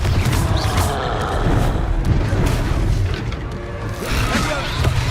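A Confringo blasting spell explodes amid the fight in Hogwarts Legacy. Dense booming rumbles and crashes run almost without a break under chaotic game action, loud and full throughout.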